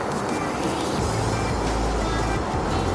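Interior of a moving Hyundai Desh Travel coach as it overtakes a Shyamoli bus on a Bangladeshi highway, a loud, steady engine drone and road rumble with deep low-end hum throughout.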